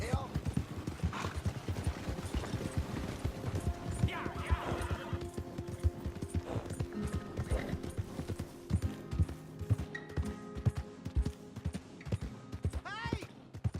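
Horse hooves galloping in the video game Red Dead Redemption 2, a fast, steady clip-clop running throughout, with a horse whinnying and people talking over it.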